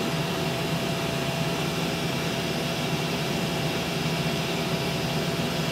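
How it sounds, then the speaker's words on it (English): Steady, loud broadband whoosh of the air assist fan on an XTool M1 laser engraver, running continuously and evenly with no breaks and no voices. "the air assist is not blowing them around"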